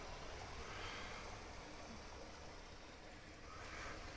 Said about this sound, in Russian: Река такая маленькая, но очень такая бурная, не замерзает зимой.